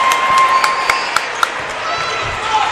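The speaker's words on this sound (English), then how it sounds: "Home crowd chanting defense." A home crowd at a high school basketball game, Goffstown at Bishop Guertin, chants defense in a loud gym. Rhythmic sharp claps or stomps punctuate the crowd noise, with an announcer's voice over it.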